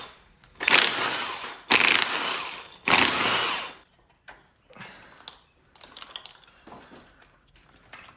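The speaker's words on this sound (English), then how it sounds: "we can access those injector bolts and start actually taking them out." Bolts being undone on the injectors of a failed BMW E92 Alpina coupe engine: three loud, sustained bursts of a power tool in quick succession, followed by softer scattered clicks and clatter of loosened hardware.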